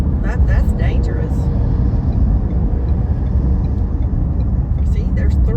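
Several cars creep slowly along a loop road, giving a steady low road rumble and engine drone that stays close and constant throughout.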